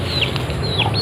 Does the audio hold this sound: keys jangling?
no